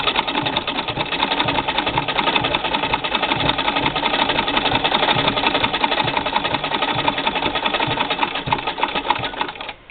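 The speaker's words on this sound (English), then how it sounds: "And this machine is louder than my white. It has a vertical oscillating bobbin in it." A 1937 Singer 15-88 treadle sewing machine with a vertical oscillating bobbin running steadily, a close, fairly loud whirring with rapid rhythmic mechanical clatter throughout and no talk.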